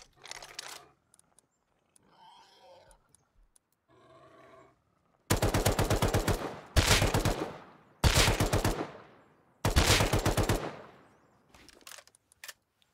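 Four loud, rapid automatic bursts from an LR rifle with a holo sight in the game Rust ring out close by in a steady rhythm, each about a second long, after a few quieter rustles and thumps.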